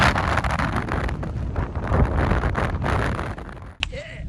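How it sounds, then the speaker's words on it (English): Strong gusts batter the microphone high on a volcano's crater rim during a camping trip, a loud continuous roar that drops away near the end with a brief knock. "the wind has just been astounding"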